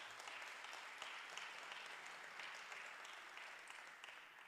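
A church congregation applauds in steady, sustained clapping that holds at an even level, sounding full but somewhat distant.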